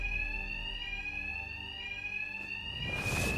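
A high electronic fire alarm tone blares steadily and continuously in Batman Arkham Knight, with a faint rumble underneath and a burst of noise near the end.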